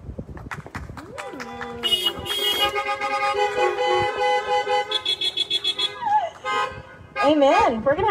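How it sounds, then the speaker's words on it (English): Car horns honk repeatedly in overlapping bursts at a drive-in caroling church service, some long and some short, with a rhythmic stuttering honk near the end; voices murmur faintly underneath. "I feel like honking is the new clapping"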